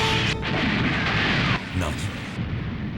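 A heavy cannon blast from a warship's special main gun in the Gundam SEED anime, a loud booming roar with crashing rumble that fills the whole clip before easing slightly near the end.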